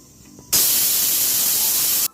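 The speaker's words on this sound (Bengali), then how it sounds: "ছোলার ডাল প্রেশার কুকারে তিনটা সিটি দিয়ে নিলাম" A pressure cooker holding chana dal releases a whistle: one loud, sharp burst of steam hiss lasting about a second and a half, starting abruptly and cutting off cleanly.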